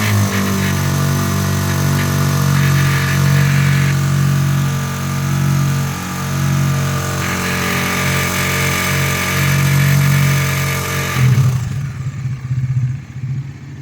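A Bajaj Dominar NS400Z motorcycle engine is held at high revs close by, a steady loud drone with a faint rhythmic knocking or clatter running through it, then the revs drop sharply near the end.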